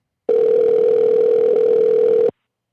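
Steady telephone dial tone on the line while another caller is being added, a single continuous loud hum lasting about two seconds, alone with no talk.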